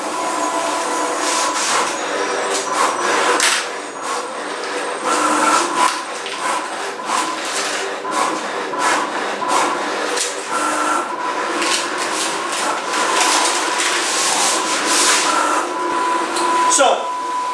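A vinyl printer runs while printing lettering graphics, producing a continuous busy mechanical clatter with rapid repeated clicks and whirring carriage passes, fairly loud and steady throughout.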